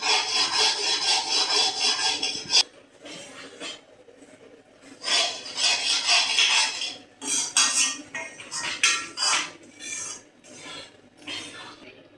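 Cashews and raisins roasting in oil in a pan for Ashoka halwa, stirred with a utensil that makes loud, rhythmic scraping strokes against the metal, broken by short quieter pauses.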